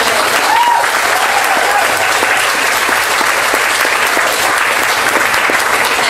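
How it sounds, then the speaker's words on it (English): Loud, steady applause from an audience at a poetry event, dense clapping throughout, with a faint voice or cheer briefly rising near the start. "So a quick round of applause for them,"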